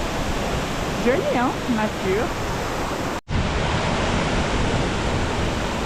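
Sous Coutelo waterfall, 36 metres high, roars as a broad continuous wash of falling water, with a person speaking briefly over it and a short dropout midway.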